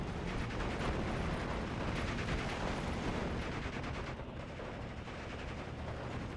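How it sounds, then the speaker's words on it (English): Machine guns firing in the Steel Division 2 strategy game, dense rattling bursts layered with distant booms and battlefield din, continuous and loud with no talk. "Machine gun versus machine gun."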